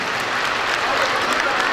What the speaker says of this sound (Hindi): भरपूर तालियां होनी चाहिए।